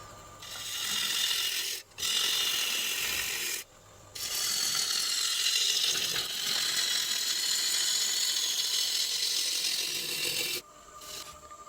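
A freshly sharpened, swept-back-grind woodturning gouge cuts a sycamore bowl on a lathe, producing a loud, continuous hissing scrape with a few short breaks as the tool lifts off, close and without talk.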